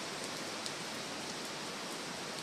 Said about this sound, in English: Right now, it's just a lot of wind, a lot of rain, but not a lot of flooding just yet.